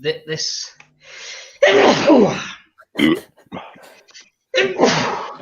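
Two loud, breathy sneezes separated by a few seconds, mixed with gasps and short bits of nearby talk.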